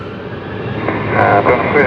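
Korean Air Cargo Boeing 777 taxiing at Zurich airport, a steady jet engine rumble and whine that grows slightly louder toward the end, with muffled voices over it.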